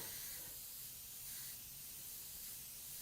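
Paint is sprayed across a fantasy art painting, a continuous faint hiss of fine mist that holds steady without pauses and swells slightly midway.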